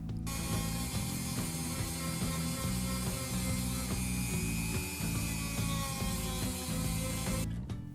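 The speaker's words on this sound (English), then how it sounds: "After finishing with the Dremel" A Dremel rotary tool grinds along the layered edges of a handcrafted leather wallet, a dense, continuous buzzing whine with rapid rattling pulses, close and steady for several seconds before stopping.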